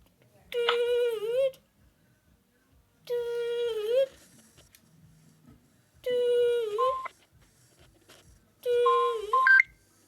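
Four bursts of tonal telephone beeps, each about a second long and spaced evenly across the clip, ring out clearly and alone, like a phone calling back after hitting voicemail, with no talking over them.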